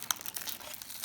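Plastic packaging crinkles and crackles in a short close burst during the unwrapping of a toy monster truck, with no voices.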